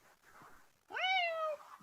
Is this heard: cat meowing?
yes